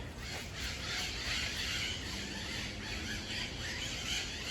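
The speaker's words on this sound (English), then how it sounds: "those are parrots." Maritaca parrots calling in a Brazilian forest, with loud, harsh repeated squawks and squeals over a steady wash of insect and forest ambience.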